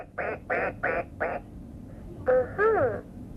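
An RFID-reading animal toy plays a recorded duck sound: four quick evenly spaced quacks, then a short pause and a longer two-part quack, clear against a faint background hiss.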